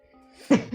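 A single sharp, loud burst at the end of a short quiet stretch, like a sneeze, followed by a brief softer sound.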